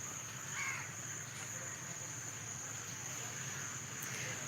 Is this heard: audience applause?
no